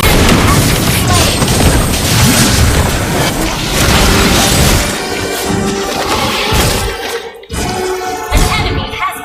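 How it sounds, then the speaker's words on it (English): A turret is destroyed in Mobile Legends, a dense, loud crash and boom of game effects that rumbles for several seconds before breaking off abruptly, with an announcer voice over the mix. "Our turret has been destroyed."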